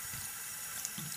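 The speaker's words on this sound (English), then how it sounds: "After that, I'll just use the water and rinse it all away." Tap water runs steadily into a bathroom sink, rinsing away a homemade cleaning solution as a close, continuous splashing rush.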